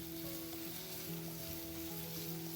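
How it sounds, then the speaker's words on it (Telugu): Onions fry in oil for a sesame-flour (telagapindi) curry, giving a soft, even sizzle throughout with sustained musical tones underneath. "ఉల్లిపాయలు వేసుకుని కొంచెంసేపు వేగించుకున్న తర్వాత ఉప్పు, కారం, పసుపు యాడ్ చేసుకోవాలి."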